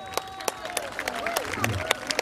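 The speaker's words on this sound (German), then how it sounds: "Jubel für Wilhelm von Hannover" A crowd at a knights' tournament cheers and claps in scattered bursts, sharp claps standing out over a quiet murmur with some voices, fairly faint and distant.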